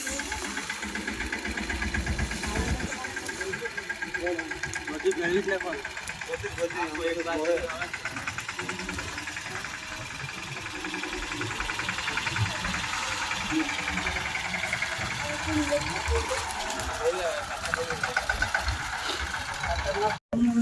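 A tractor engine idles and chugs steadily in a field during groundnut sowing, a constant mid-range rumble with people talking over it.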